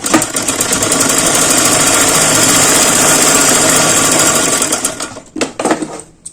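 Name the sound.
sewing machine stitching half-inch pleats on a blouse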